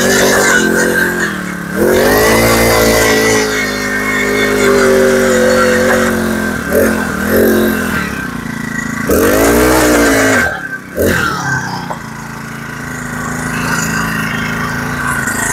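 A lightweight petrol earth auger drills an angled pit along a compound edge on farmland, its small engine droning loudly and steadily throughout, rising and straining in several bursts as the bit bites into the soil.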